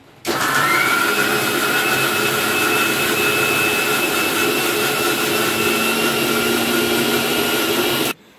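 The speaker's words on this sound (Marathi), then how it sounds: "ह्याच्यात मम्मीने लसूण आणि आलं आणि कोथिंबीर आणि थोडस पाणी ओतलंय किंचित आणि ते आता मिक्सरला लावून घेणार" A mixer grinder whirs loudly and steadily for about eight seconds, grinding garlic, ginger and coriander with a little water into a paste, then cuts off abruptly.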